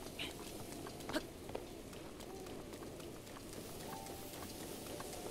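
Steady, faint rain in a video game, a soft continuous patter with a few scattered louder taps, no talking.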